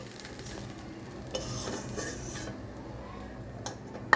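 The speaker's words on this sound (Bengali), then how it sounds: "মাছের তেলে কুমড়ো বড়িগুলো ভেজে নেব" Pumpkin vadi fry in fish oil in a pan, with a quiet, steady sizzle under repeated stirring and scraping, and a sharp utensil clink near the end.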